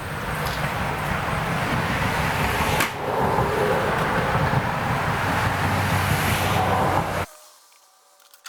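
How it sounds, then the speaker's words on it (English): An improvised pump forces fluid into a tractor tire, a loud continuous mechanical rumble and whoosh with a brief dip partway through, running steadily until it cuts off abruptly near the end into near silence. "Now the pump's actually, you know, pushing it in as well as feeding it like before"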